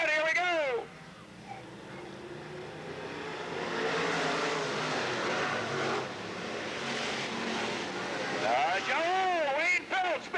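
Race cars on a dirt track speedway at a 1993 open competition show, engines roaring and swelling in the distance, rising and falling as the pack passes, with a voice talking over the noise.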